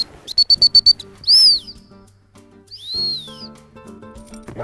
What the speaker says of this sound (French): le rappel au sifflet, c'est plusieurs coups